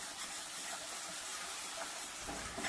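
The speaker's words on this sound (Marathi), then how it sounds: "आणि वाटण आहे ते छानसं परतून घेऊया, तेल सुटेपर्यंत छानसं परतायचं" Ground masala paste sautéing in oil for a Bhogi mixed-vegetable dish, giving a steady, close, loud sizzling hiss that runs unbroken throughout with no talking.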